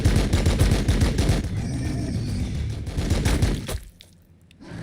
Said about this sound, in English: Heavy bolter, let's go.